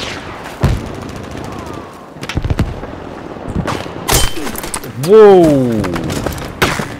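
Gunfire in the video game Battlefield 5, with sharp loud shots and bursts scattered across the moment, mixed with whooshing effects and a rising whine, while a player exclaims briefly.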